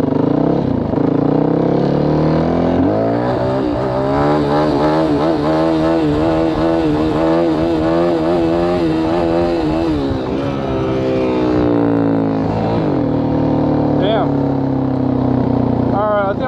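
A Yamaha WR450F dirt bike engine revs loud and close during wheelie practice, rising and falling in pitch through repeated throttle blips across the whole stretch.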